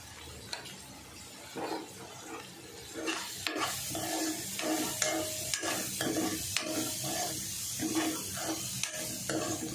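Corn kernels sautéing in a hot pan for corn poha, a constant close sizzle with repeated scraping and clinking as a spatula turns them over and over, no voices.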